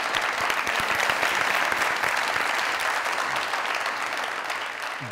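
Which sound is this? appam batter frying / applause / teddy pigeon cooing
applause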